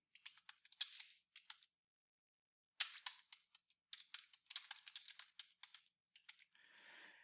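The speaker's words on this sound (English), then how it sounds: "I can type out whatever I want to include in my reflection" Computer keyboard typing in a quiet room, bursts of crisp clicks in quick irregular runs with a short pause in the middle, close and fairly faint, no voices.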